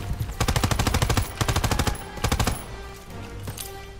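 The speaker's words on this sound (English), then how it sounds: "Hit by an MG42." MG42 machine gun fire in Call of Duty WWII, loud rapid bursts of automatic shots in tight, ripping strings, separated by short pauses and then trailing off into quieter battlefield noise.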